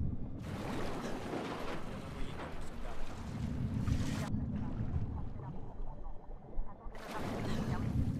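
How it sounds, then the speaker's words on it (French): A boat motor restarting and running in The Last of Us Part II, a low throbbing engine drone under bursts of broadband water and wind wash that cut in and out, with the motor carrying on steadily throughout. "Bon, le moteur est reparti."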